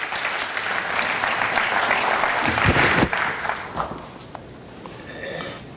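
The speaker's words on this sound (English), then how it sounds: "Y'all clap your hands for Chris" Church audience applauding and cheering at a motivational talk, dense sustained clapping that swells in the middle and then thins out toward the end, with a few voices mixed in.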